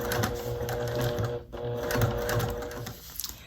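A sewing machine stitches slowly along fabric piping in short bursts of needle chatter, stopping briefly midway before resuming, close and moderately loud with no voices.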